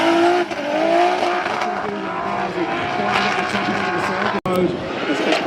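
A 900 horsepower drift car at Ahvenisto revs hard and continuously, its loud engine wailing with tire squeal mixed in, under excited commentary.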